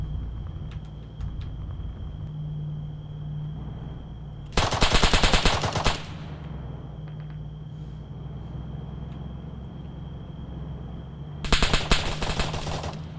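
Two loud bursts of automatic gunfire in a video game, each lasting about a second and a half, over a steady background hum.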